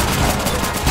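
A burst of gunfire in a Roblox zombie game, loud and dense, filling a short moment as one continuous blast of noise.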